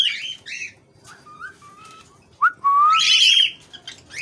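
A pet parrot whistles and calls nearby, with bright chirps early on and a louder rising whistle and sustained call in the second half, no talk.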